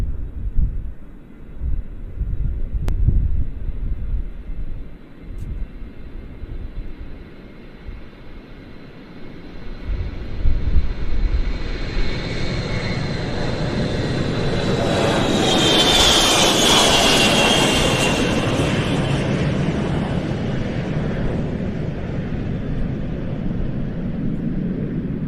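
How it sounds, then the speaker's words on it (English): A large aircraft powered by TF-33 jet engines departs at the RIAT airshow, its roar building from a distant rumble into a loud, sustained, whining blast as it passes close, then holding steady. "Okay, let's have some TF-33 noise."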